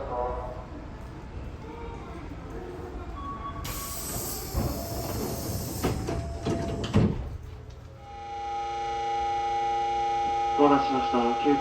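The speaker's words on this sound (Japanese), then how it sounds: "扉が閉まります" Hankyu train doors close at a station platform: a sharp hiss of air, a clattering thud as the doors shut, then a steady electric hum with faint chime-like tones at the end.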